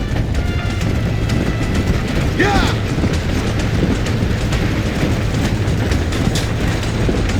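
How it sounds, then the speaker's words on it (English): Steady rumbling train from the video game Red Dead Redemption, a continuous loud roll with faint wheel clatter throughout and a brief shout partway through. "There is a train. We must escort it to Casa Madrugada."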